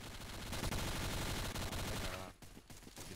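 Rapid automatic gunfire from the video game Kuboom bursts almost continuously and loudly, then stops abruptly, leaving a few scattered shots and clicks.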